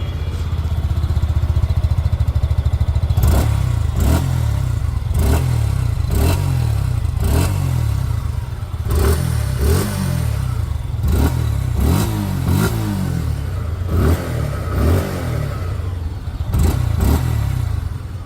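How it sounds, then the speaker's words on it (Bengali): A 2026 Suzuki Gixxer SF motorcycle idles with a dual-barrel exhaust after a self-start, loud and close, punctuated by a series of sharp throttle blips and revs that rise and fall roughly every second or two. "চলুনের এক্সস্ট সাউন্ডকে আপনাদের একবার শুনিয়ে দিই।"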